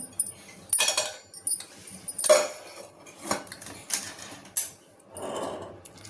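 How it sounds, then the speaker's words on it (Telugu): Clattering of lunch box lids being closed after packing rāgi fish fry, several sharp metallic clacks and knocks spread through the moment, close and fairly loud with no talk. "అది కూడా పోసేసుకుని బాక్సులు మూత పెట్టేద్దాం"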